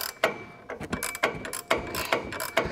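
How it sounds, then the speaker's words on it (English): A 21mm ratcheting wrench works a stubborn nut free during shock absorber removal, giving a series of close, sharp ratchet clicks in uneven bursts with brief pauses between pulls. "Take a 21mm ratcheting wrench. Go ahead and break that nut free."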